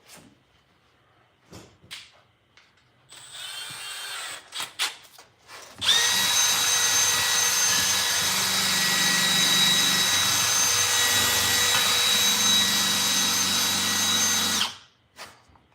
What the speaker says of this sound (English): Let's see if I can use my drill